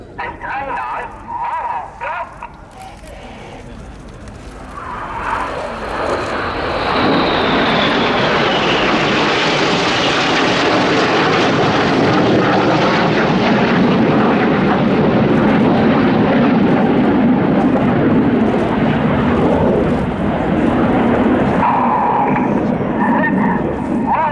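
RAF Red Arrows jets at the Royal International Air Tattoo 2016 air display roar past in a loud swelling rush that builds and holds, with a commentator's voice over the display and a crowd nearby.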